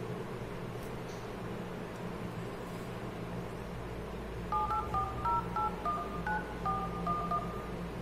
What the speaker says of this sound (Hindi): सबसे पहले हम इस फोन पे कॉल करते हैं।